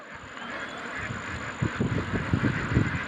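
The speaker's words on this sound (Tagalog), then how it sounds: "Dagan dito, ang itik ko, dagan." Ducks quacking in a rural yard, a cluster of short low calls building in the second half over a steady background hum, moderately close.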